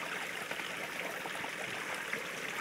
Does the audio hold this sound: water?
yes